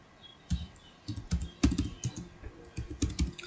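Fingers type on a computer keyboard during online DBT entry for a midday meal scheme, with close, irregular clusters of key clicks and a few heavier presses, and no talking.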